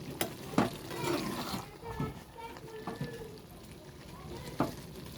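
Food cooking in a pan on a home stove, a soft steady sizzle with occasional stirring clinks and scrapes, fairly quiet and close throughout.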